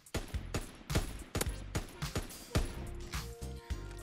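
Rapid, punchy bursts from an MG 15 machine gun in a video game, firing in quick repeated volleys close up, with a faint voice in the background.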